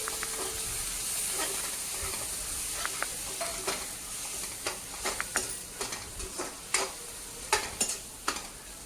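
A spoon stirs gongura pickle mixed with a hot tempering in a pan, with soft sizzling and a quiet, irregular series of scraping and tapping strokes that grow more frequent toward the end.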